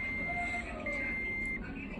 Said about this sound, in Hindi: यहाँ पर भी रेड इंडिकेटर जल रहा है और बजर साउंड की आवाज़ भी आ रही है